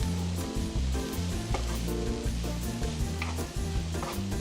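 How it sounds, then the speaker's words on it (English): Noodles fry in a hot wok as they are stirred, with a loud continuous sizzle and scraping, shuffling stir strokes. A low tonal background layer runs underneath, and there is no talk. "because the heat is so hot at the bottom, you don't want it to burn, so you just give it a stir"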